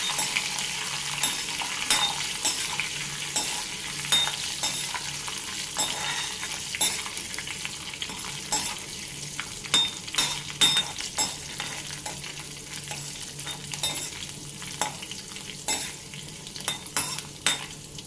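Mustard seeds, cumin, urad dal, curry leaves and thinly sliced green chilies frying in oil, a steady crackling sizzle broken by frequent sharp pops and spatula scrapes and taps against the pan, with no voices.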